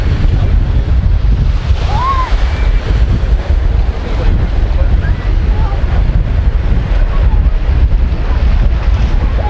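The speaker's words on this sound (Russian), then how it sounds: "Ну, волны приличные," Strong wind roars across the microphone on a Black Sea beach at Anapa while sizable waves crash and churn. The noise is loud, dense and unbroken with no pause.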